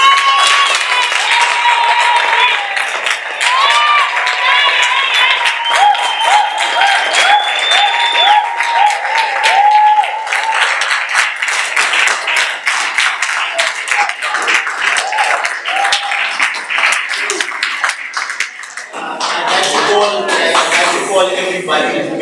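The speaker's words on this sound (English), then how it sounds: "This applause is not for me alone." A large audience applauds and cheers continuously, with loud dense clapping overlaid by a voice speaking over it and crowd noise shifting near the end.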